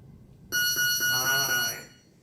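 A loud electronic timer buzzer blares in a few quick pulses merging into a sustained tone, lasting over a second before cutting off.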